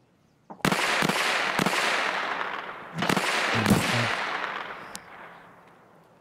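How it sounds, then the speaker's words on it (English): Scavs fire in Escape From Tarkov: about six sharp gunshots come in an irregular sequence, each leaving a long echoing tail, sounding moderately distant with no talk over them. "I think these scouts are shooting this guy."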